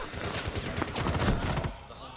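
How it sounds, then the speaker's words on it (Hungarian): Dense, rapid bursts of video game gunfire from a team showmatch at the Raleigh Major 2019 esports event, loud and continuous before cutting off, with commentary running underneath. "Az viszont egy nagy lövés volt itt Interrótól"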